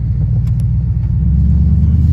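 A car with a 5.7 Hemi V8 sits warming up, giving off a loud, steady low rumble heard close by. The sound stays even the whole time, with a couple of faint clicks and no talking.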